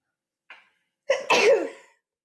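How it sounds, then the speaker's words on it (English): One person sneezes close up, a brief sharp intake followed by a loud explosive burst that trails off. "I'm about to sneeze."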